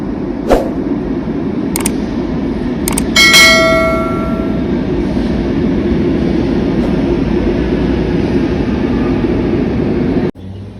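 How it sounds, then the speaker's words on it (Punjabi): A Lisbon metro train pulls into a station with a steady low rumble, a ringing chime of tones partway through, and a sudden drop near the end. "ਉਹ ਆ ਗਈ ਮੈਟਰੋ ਆਪਣੀ"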